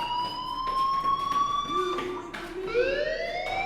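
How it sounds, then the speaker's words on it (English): A fire alarm in the video game Life is Strange rings steadily as a loud, sustained electronic tone with sliding pitch, continuing without pause throughout. "do you hear that fire alarm?"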